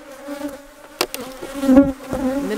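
Bees hum steadily around a Warre-style hive that may have partly swarmed, a close, continuous buzz with individual insects droning past now and then.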